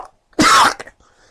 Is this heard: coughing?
yes